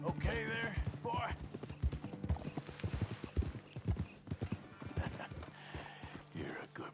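Horse hooves clip-clop at a steady walking pace in a PS4 video game, with occasional snorts, mixed under someone talking to the horse.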